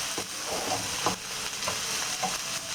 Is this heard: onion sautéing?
yes